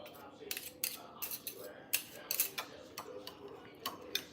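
A whisk beats a milky mixture in a bowl, making quick, rhythmic light clinks and taps that stay faint and close throughout.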